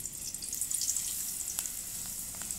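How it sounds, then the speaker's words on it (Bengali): Potato chips fry in hot oil with a steady, close hiss and crackle, and small pops break through now and then. "তেলটা গরম হয়ে গেছে, এবার আমি আলুর চিপসগুলো দিয়ে নেব।"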